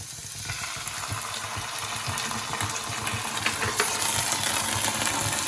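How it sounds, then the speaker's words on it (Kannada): Paneer manchurian frying in a pan gives a loud, continuous sizzle with crackling spatter that holds steady throughout. "ಫ್ರೈ ಆಗಿದೆ, ನೀಟಾಗೆಲ್ಲ ಫ್ರೈ ಆಗಿದೆ."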